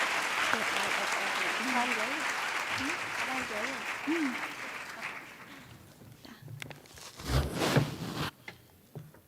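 Applause for forum panelists at a public forum session: steady, dense clapping from a large audience for about six seconds, with a voice speaking over it, then fading into scattered claps, shuffling and a few louder knocks near the end.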